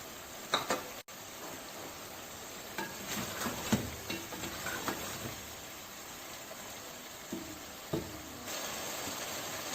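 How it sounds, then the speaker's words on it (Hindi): Chicken sautéing in a pan with yogurt and chopped green chillies, a soft steady sizzle broken by scattered stirring scrapes and clinks of a utensil, close and moderately quiet with no talking. "बस अब चिकन को जरा हम भूनेंगे दही का पानी ड्राई होने तक।"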